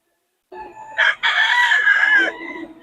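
A single rooster crows loudly and close by at a gamefowl market in Bocaue, one full cock-a-doodle-doo with a brief break near its start.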